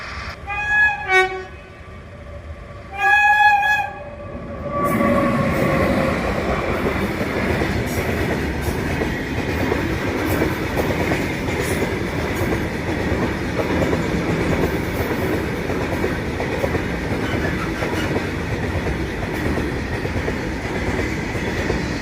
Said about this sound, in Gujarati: પછી આવી ગઈ ટ્રેન